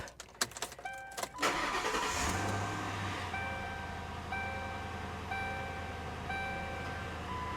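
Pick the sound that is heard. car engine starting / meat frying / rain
car engine starting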